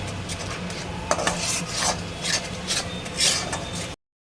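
Spice masala for tahari sautéing in a pan, with repeated spatula scrapes and stirring strokes over a low sizzle, close and moderate, ending abruptly with no talk.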